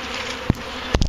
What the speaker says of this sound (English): I don't know if you guys can hear the buzzing, but wow, a lot of bees.